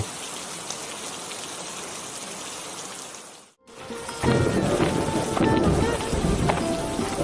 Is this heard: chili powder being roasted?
no